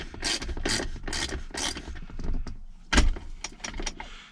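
A ratchet backs a long car seat bolt out, producing close, repeated bursts of rapid clicking with short pauses and a sharper knock partway through, with no talking.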